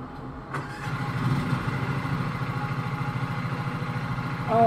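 In the Lawn Mowing Simulator video game, a lawn mower engine cranks with a sharp start, then settles into a steady, pulsing idle that runs close and fairly loud to the end, with no talk.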